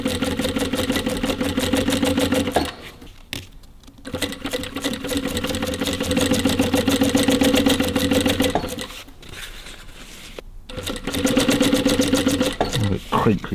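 An industrial walking-foot sewing machine stitches windlace for a 1954 Ford Mercury Monterey Sun Valley, a loud steady rapid mechanical chatter that stops briefly twice and restarts.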